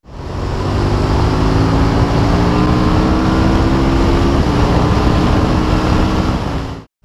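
A 2017 KTM 1290 Super Duke R motorcycle engine drones steadily up close, a continuous loud rumble with rising harmonic tones as the bike is ridden, cutting off sharply right at the end.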